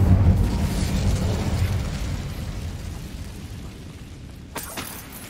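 A fire spell cast in the Hogwarts Legacy video game gives a loud fiery whoosh and burst at the start, then fades gradually to a faint rumble, with a short crackle near the end.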